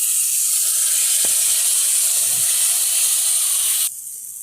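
Masala fries in a pan with a loud, steady sizzle and hiss as turmeric and water are added, the bright crackle holding strong before dropping abruptly near the end.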